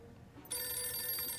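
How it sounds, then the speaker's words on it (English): A telephone ringing in the video game 60 Seconds! Reatomized, starting abruptly partway through and continuing as a steady, bright electronic bell tone over quiet background. "Okay, here's the phone call."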